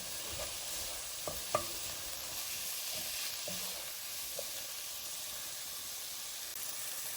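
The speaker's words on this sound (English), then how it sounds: "Let's fry this for 5 more minutes." Oil sizzles and hisses steadily as onion and tomato fry in a pan, with a few soft clinks and scrapes of a spoon stirring.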